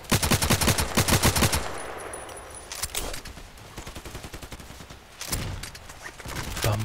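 Rapid automatic gunfire in the online shooter game Contract Wars, a loud fast burst at the start followed by scattered shots and further firing, with no talking.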